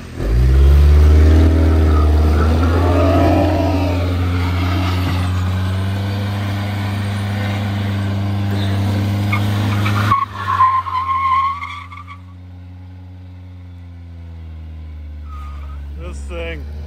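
A $900 Nissan doing a burnout against a Ford EcoBoost, the engine held wide open in a loud, steady drone with tires screeching, then the revs drop sharply to a lower idle-like hum.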